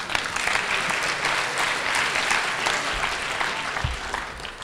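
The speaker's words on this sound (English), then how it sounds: "let's give them both a warm round of applause" Applause from a crowd at the Hack the North hackathon closing ceremony, a dense steady clatter of many hands clapping at moderate volume with no voices.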